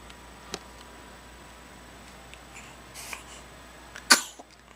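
A baby's tiny sneeze, a single faint, brief burst near the end, heard against quiet room background hiss.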